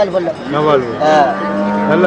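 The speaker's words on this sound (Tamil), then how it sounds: "மாடு இது வீட்டில் வீட்டில் பழகுனது" Cattle at the Manapparai cattle market, where Jallikattu bulls are traded, low loudly and close by in two drawn-out, rising and falling calls, with no talk over them.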